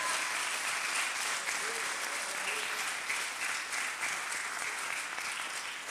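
A church congregation applauds in a dense, sustained round of clapping that stays steady and fills the room throughout.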